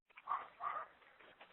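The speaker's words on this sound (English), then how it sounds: "We can hear Fido. The dog." A dog named Fido barks in the background of a call, two or three muffled, faint yips in quick succession, thin and distant.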